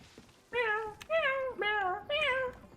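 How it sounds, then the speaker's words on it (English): Four clear, close cat meows from the Elder Scrolls Online Elsweyr game follow one another in quick succession, each a drawn-out, rising-and-falling call with short gaps between. "So many cats."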